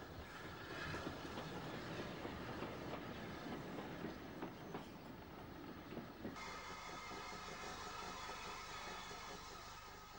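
A 1962 UK train rumbles along the rails with steady clattering, loud and continuous, the tone shifting as it passes.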